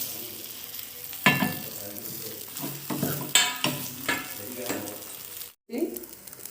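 Mini idlis being stirred with idli podi in a hot pan, giving a steady low sizzle broken by several sharp scraping stirs, with a brief drop to silence near the end.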